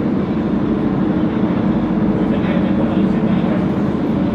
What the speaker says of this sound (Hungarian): ez az a föld alatti, illetve tenger alatti vonat, ami összeköti a franciákat meg Angliát